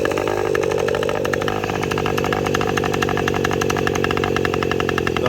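A small engine runs after being fitted with electronic ignition, a loud, buzzy, raspy idle close by with a brief shift in pitch early on, then settling into a steady drone.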